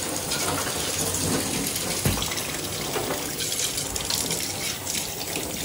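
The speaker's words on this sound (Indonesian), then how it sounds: "setelah dimatikan api kita siram air dingin sedikit aja" Cold water splashes and gushes steadily over a hot pressure cooker after the stove is turned off, a loud continuous rushing wash with a faint voice in the background.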